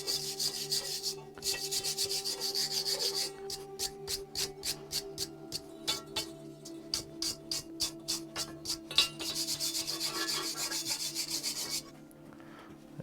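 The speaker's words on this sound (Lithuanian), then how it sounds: "Dabar galim nušveisti tą dalį, kuri buvo kaitinant varžtą." A heated metal part is scrubbed clean by hand in a brisk, regular series of close scratchy strokes, set between longer stretches of steady hiss and background hum.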